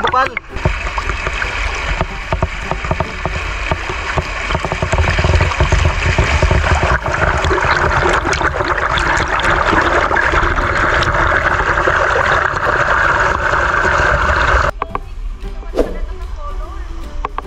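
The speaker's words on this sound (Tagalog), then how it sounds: "Lakas ng bukal." Strong spring water rushes and gushes steadily, loud and close, with a dense splashing roar that cuts off abruptly near the end, at a resort pool in Teresa, Rizal.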